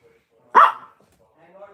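A single sharp, loud dog bark close by, followed by faint murmuring.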